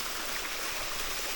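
River water flowing beneath a rock overhang by a waterfall, a steady close rushing and trickling wash with no break, filling the short stretch alone.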